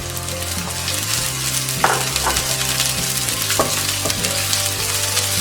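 Chicken pieces for chicken adobo with poivre vert fry in a hot pan until golden brown, a steady close sizzle broken by occasional clinks and scrapes of a stirring utensil, with no talk.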